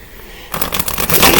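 Tarot cards being shuffled close by, a sudden loud burst of rapid riffling flutter that starts after a quiet half second and continues to the end.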